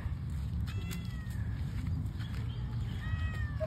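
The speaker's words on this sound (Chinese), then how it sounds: "竟然有猫咪耶！" A black cat meows several times at a Catholic church, the cries short and rising, heard over steady low background rumble and noise.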